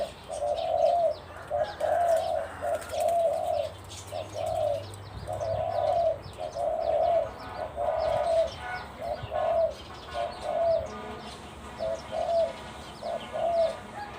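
A zebra dove coos in a steady, repeating rhythm, each soft call evenly spaced, over a hissy outdoor background with faint chirps.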